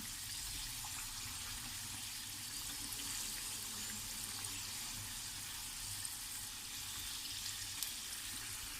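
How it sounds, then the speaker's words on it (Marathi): Sambar vadi, Nagpur's special pudachi vadi, frying in hot oil until browned, giving a steady, even sizzle and bubbling hiss that runs throughout, close and alone with no talk. "आता ब्राऊन कलरवर तळून घ्यायच्या"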